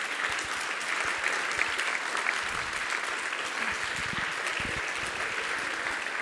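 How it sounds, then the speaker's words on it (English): Audience applause at a science summit as panelists are welcomed on stage, a steady, dense clapping from a large crowd lasting several seconds with no talk over it. "And they can get an applause too, please."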